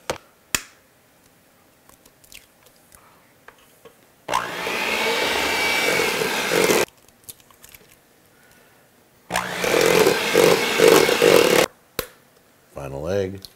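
Electric mixer beating plum pudding batter with eggs on low speed, two sustained whirring bursts of several seconds each, separated by quieter gaps with small clicks and handling noises.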